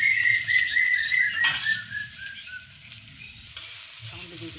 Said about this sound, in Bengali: লবণ হলুদ ছাড়াই আমি লতিটাকে খুব সুন্দর করে ভেজে নিচ্ছি